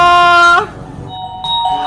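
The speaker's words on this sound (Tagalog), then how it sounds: "Tumutunog yung doorbell!" A two-tone doorbell chime rings out loud and close, one sustained tone followed by a second ding after a short pause, with no talking.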